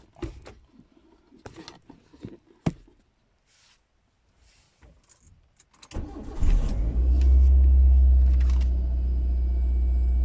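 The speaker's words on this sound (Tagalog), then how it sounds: "so start natin yung engine" A 1997 Mitsubishi Lancer engine is started after several clicks and knocks from inside the car, then catches and settles into a loud, steady, low idle rumble that runs to the end.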